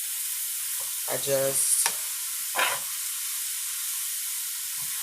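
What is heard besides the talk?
cabbage cooking and steaming in covered pot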